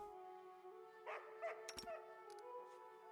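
Dog in the Pathfinder: Kingmaker video game giving a couple of short, soft barks and yips over a steady droning game music bed, faint and brief.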